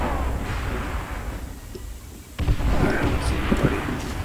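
Sharp shots and booming reports from a sniping video game ring out amid battle noise, a dense volley clustering after a brief lull in the middle.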